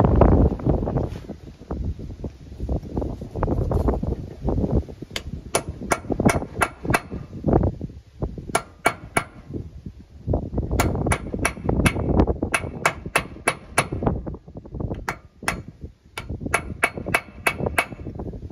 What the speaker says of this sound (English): Make sure to unstake it fully using a punch or a chisel